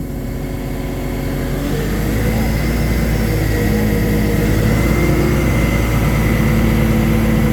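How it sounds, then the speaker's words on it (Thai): A LiuGong 920E excavator engine holds a steady low rumble, rising slightly in loudness partway through and staying constant and close, with no talk over it. "โอ้ เสียงเครื่องยนต์เงียบมากครับ"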